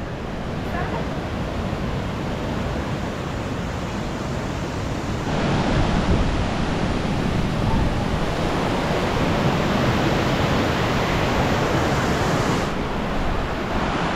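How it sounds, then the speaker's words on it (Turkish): Steady rushing river water in the Swiss mountains fills the whole clip, a broad continuous roar that grows slightly louder partway through, with no voices. "şu nehrin suyun sesi o kadar güzel ki"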